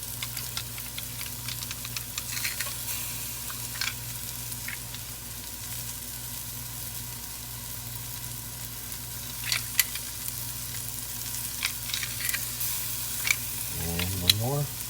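Halved garlic cloves sizzling in oil in the pot of a pressure cooker, a steady faint crackle and hiss close by, with brief clinks and stirring scrapes near the end.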